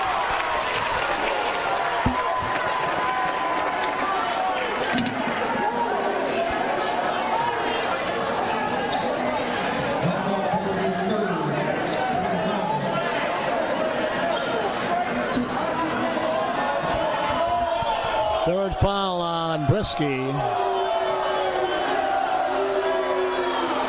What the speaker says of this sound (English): Pretty good Sparta student body crowd here tonight